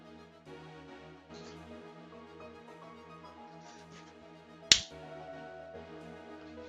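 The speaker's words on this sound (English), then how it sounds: "just had to clap a fly out of the fucking air" A single sharp hand clap swatting a fly out of the air, sudden and fairly loud against a steady backdrop of video game music.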